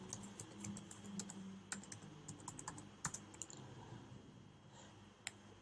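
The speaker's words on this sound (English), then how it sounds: "I give a new password and retype password again" A password typed on a computer keyboard, heard as a quiet, close run of rapid, uneven key clicks with no talking.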